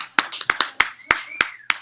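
A single person claps alone at a comedy show, about seven sharp, separate claps in an uneven rhythm, close and clear against a quiet room.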